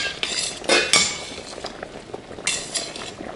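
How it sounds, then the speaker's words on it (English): Raw shrimp being stirred in a pan, with close metallic scrapes and clinks of a utensil against the pan in a short, irregular burst of sound. "In the meantime, I'm going to stir my shrimp."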